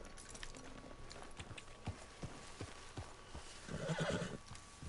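A horse in the Red Dead Redemption II video game lets out a loud whinny near the end, preceded by scattered hoof clops and thuds over steady game ambience, with no talking.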